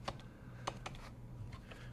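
Keystrokes on a computer keyboard, a few sharp clicks spaced irregularly over about two seconds against a quiet room hum, with no talk.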